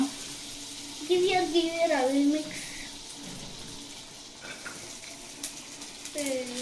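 Butter sizzling in a pan while vegetables are sautéed for white sauce pasta with corn and capsicum, a soft crackling hiss under someone speaking, with quieter stretches between her words.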